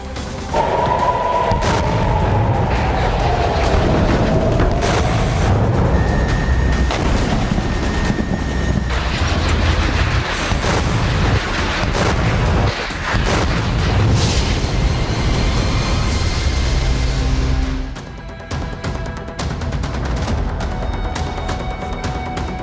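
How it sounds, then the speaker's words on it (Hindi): Air strikes, Israeli military action against Hezbollah in Lebanon, with loud, dense booming and rumbling that rolls on almost continuously for over twenty seconds, with no voices, before easing slightly near the end. "अभी तक आपने देखा कि आखिर कैसे एयर स्ट्राइक्स हो रही हैं"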